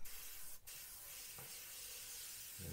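A faint, steady hiss of fine airbrush paint spray runs throughout, with a brief sharper burst early on and a soft thump near the end.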